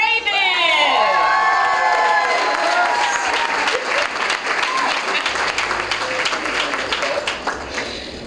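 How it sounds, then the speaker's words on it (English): A crowd at a youth leadership awards event breaks into warm, sustained applause with cheers and whoops, loud at first and gradually thinning out. "Another warm round of applause"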